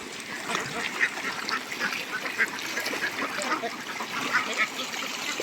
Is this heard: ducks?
yes